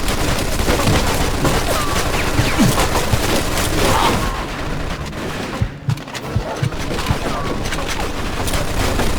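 A machine gun fires in the video game Mafia 2, its dense rapid bursts mixing with crashes and other gunfire in a loud, unbroken din that eases briefly midway.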